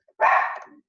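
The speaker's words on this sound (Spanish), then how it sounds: "tengo un perro divino que le encanta ladrar" A single short, sharp bark from a pet dog, fairly close and clear, with near silence before and after.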